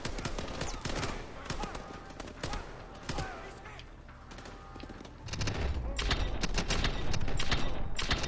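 Pistol gunfire in the video game Call of Duty: Advanced Warfare, a loud dense burst of shots and mechanical clatter amid game sound effects, with heavy combat noise building toward the end.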